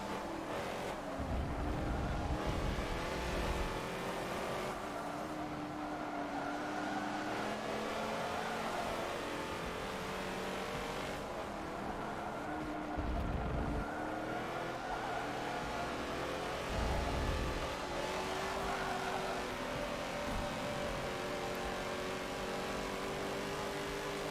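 A Ferrari race car engine in Forza 7 B Class racing drones and climbs through gears, with repeated rising tones and brief shift dips, at a moderate, steady level and no talking.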